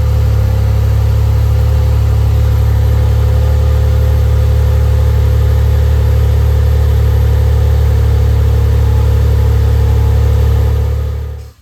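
A 2009 Saab 9-3 Aero XWD engine idles steadily for about eleven seconds, a loud, constant low rumble with no revving, then cuts off abruptly at the end.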